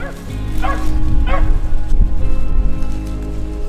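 Hunting dogs on a squirrel hunt bark in a few sharp, close bow-wow bursts with yips, over a steady outdoor rumble.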